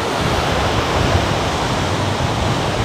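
Strong seaside wind at Hua Hin beach blasts continuously against the microphone, a dense, loud roar of noise with no break and no speech.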